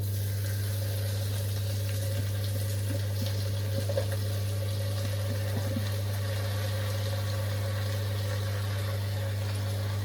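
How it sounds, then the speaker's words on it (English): Water at a rolling boil in a Japanese mess tin, a steady low bubbling roar over a constant hum, with faint pops and no talk. "Now it's sort of sat at a rolling boil"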